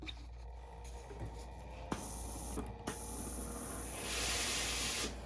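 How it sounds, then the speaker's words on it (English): A steam iron hisses as steam is released while pressing a sewn seam on a face mask, a steady airy hiss that swells louder toward the end, with a couple of faint clicks. "Clearing the pipes on my iron, and now I'm giving this some steam."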